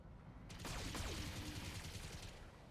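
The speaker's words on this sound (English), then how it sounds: "Even machine guns can do a lot of damage to that thing" Machine gun fire from mechs in the Battletech video game, a quick burst of rapid shots with fast rattling and ringing tails, heard faint and distant across under three seconds.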